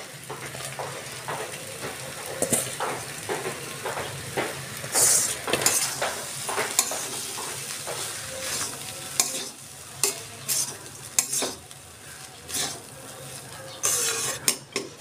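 Leftover rice frying with pumpkin and cabbage crackles steadily in a pan while a spatula stirs, scrapes and clinks against the metal in an uneven rhythm, close and clear.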